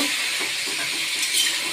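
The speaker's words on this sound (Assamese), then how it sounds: "গৰম তেলত দিলোঁ পিঁয়াজ" Onions frying in hot oil in a pan while meat curry is being cooked, giving a steady, close, even sizzle with a bright hiss and no voices over it.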